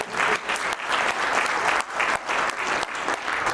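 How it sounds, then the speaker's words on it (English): A crowd at a chamber of commerce speech breaks into sustained clapping, loud and even, rising and dipping in rhythmic waves for several seconds with no voices over it. "Clap if you agree."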